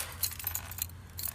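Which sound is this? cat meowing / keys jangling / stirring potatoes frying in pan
keys jangling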